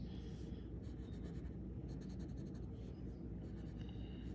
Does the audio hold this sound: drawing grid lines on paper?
yes